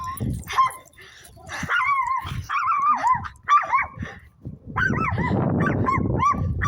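A small dog barks and yips repeatedly in high, sharp bursts, close by, with some whining pitch bends between barks.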